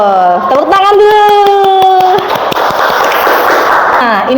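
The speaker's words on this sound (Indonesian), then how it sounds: "Tepuk tangan dulu." A raised voice speaks first, then a loud burst of audience hand clapping fills a training session for teachers, running about two seconds before fading.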